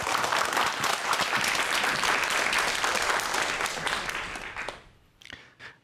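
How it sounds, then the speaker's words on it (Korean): A studio audience on a Korean broadcast lecture show claps warmly as guest speakers are welcomed onto the stage, a full steady applause that fades out over the final second. "박수 부탁드릴게요."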